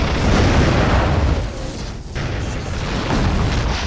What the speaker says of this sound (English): this lava bomb that actually hits the RV